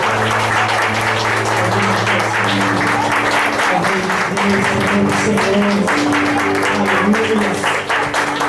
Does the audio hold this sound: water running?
no